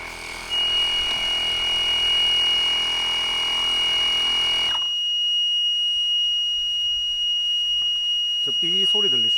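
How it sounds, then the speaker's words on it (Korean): A steady high-pitched beep from the red pressure relief valve on an inflated air tent as the pressure passes about 6.5, continuous and fairly loud for about five seconds before cutting off, with other faint tones afterward. "저 삐 소리 들리시죠?"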